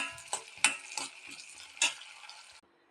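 Garlic, dry red chillies, a Kashmiri chilli and a piece of tamarind frying in a pan for garlic chutney, with a steady close sizzle and several sharp stirring clinks against the pan.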